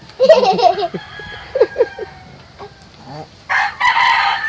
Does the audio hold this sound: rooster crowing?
yes